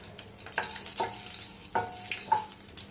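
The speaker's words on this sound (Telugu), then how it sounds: "కొద్దిగా ఆవాలు ఇవన్నీ వేసి ఫ్రై చేసుకోవాలి" Mustard seeds and green chilies frying in a pan, with a soft steady sizzle and a few sharper crackles and pops spaced through it.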